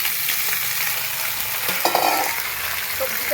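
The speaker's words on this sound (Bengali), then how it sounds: "এবার আমি সবজিগুলো সব এর মধ্যে দিয়ে দেবো।" Vegetables added to fried onions crackle and sizzle in a hot pan, a steady close frying hiss with a brief burst of louder sputtering and stirring scrapes as they hit the oil.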